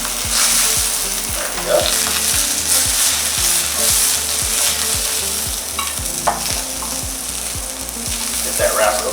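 Scallops sear and caramelize in a hot pan for a simplified Coquilles Saint-Jacques, a loud, steady sizzle with occasional stirring scrapes, and someone speaks briefly over it.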